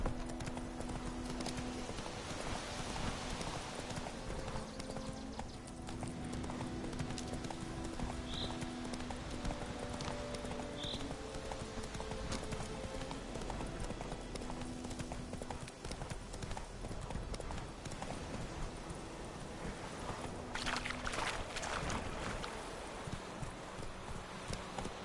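Roach the horse gallops in The Witcher 3, with a steady rhythmic clip-clop of hooves over a continuous game soundscape, plus a couple of brief faint whinnies.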